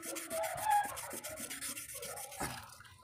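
Rhythmic back-and-forth rasping of sandpaper scraping against an electric fan motor's metal shaft, close and steady, in repeated quick strokes.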